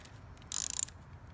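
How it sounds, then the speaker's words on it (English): A 1/4-inch ratchet with a 4mm Allen socket drives screws into a nut bar while installing a 2021 Dieselgeek Sigma Six shifter, producing one short, quick burst of rapid clicking in a quiet space. "I like to use a 1/4-inch ratchet because it gives me better control"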